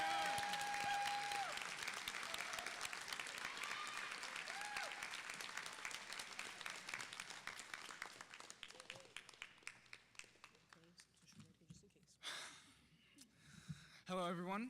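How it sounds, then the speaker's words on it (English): Graduation ceremony audience giving a long round of applause, dense clapping that fills the hall for about eight seconds, then thins to scattered claps and fades as the next speaker approaches. "Please give a warm round of applause to Mr."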